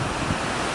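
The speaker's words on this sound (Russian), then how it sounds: "Волны большие, посмотрите." Large sea waves washing onto the beach at Haad Rin on Koh Phangan, heard as a steady, loud broadband surf roar with wind noise buffeting the microphone, with no distinct breaks standing out.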